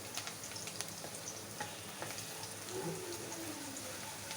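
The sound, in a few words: garlic browning in hot oil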